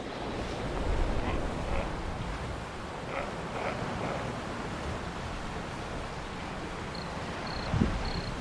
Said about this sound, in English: I was treated to the sound of distant sea lions and thunderous ocean waves